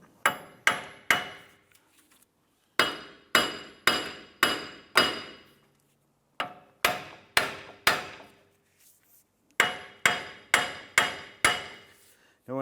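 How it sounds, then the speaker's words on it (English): A hammer strikes a Ford Five Hundred's wheel hub, working to break it free of the steering knuckle. Sharp metallic blows fall in quick bursts of three to five, separated by short pauses, loud and close with no talk. "we're going to keep doing this here to try and break the wheel hub free from the knuckle"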